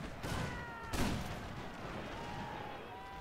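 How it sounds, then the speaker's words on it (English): Colonial-era troops' rifles fire a volley in a video game battle against Mahdist warriors in Sudan: faint, muffled distant shots with one sharper crack, over low battle ambience and music. "And they are opening fire."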